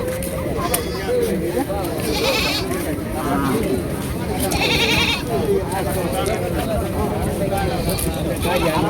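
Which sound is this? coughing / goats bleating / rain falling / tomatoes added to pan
goats bleating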